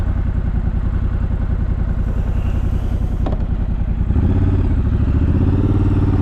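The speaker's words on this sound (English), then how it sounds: "Lovely sound out of that Triumph parallel twin." A 2019 Triumph Scrambler 1200 XE parallel-twin motorcycle runs on a snowy dirt road. The engine gives a loud, close, steady throb, and it deepens and grows heavier as the revs rise.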